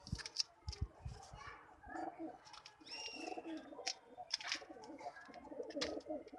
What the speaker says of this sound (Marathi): बबरा कबूतर हा मराठी कबूतर आहे